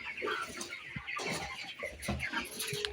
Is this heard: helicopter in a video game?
no